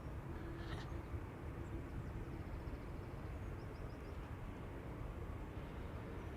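A KLM airliner bound for Bogota taxis toward the runway threshold at Amsterdam Schiphol on a sunny morning, a steady low engine rumble holding at an even level throughout with no talk.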